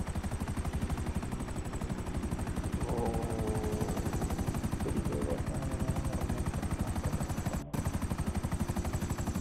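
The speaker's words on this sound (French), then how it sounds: "j'entends le bruit de ton avion là." Steady droning aircraft engine in Grand Theft Auto V on Xbox One X, loud and continuous with a dense rhythmic pulsing throb throughout, a brief dropout near the end, no talking.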